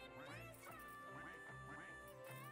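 Repeated cartoonish duck quacks from the Roblox game Duck Army come in a quick, steady series, loud and close, over game music with a voice talking.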